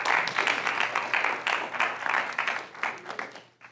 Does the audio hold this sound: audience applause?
yes